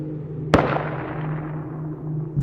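A single sharp gunshot sound effect bursts out in a horror story about soldiers during the Mexican Revolution, followed by a long fading rumble over a low sustained drone.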